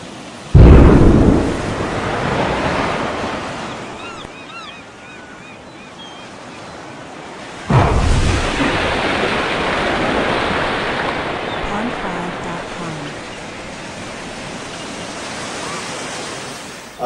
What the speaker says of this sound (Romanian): Ceea ce veți vedea este o explozie nucleară subacvatică